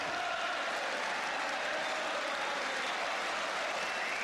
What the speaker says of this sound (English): More applause for Charlton.